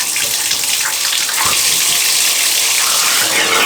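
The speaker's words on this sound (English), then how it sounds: "I'm just turn the shower on." Shower water runs loud and close in a yurt, a continuous hissing gush with no pauses and no voices.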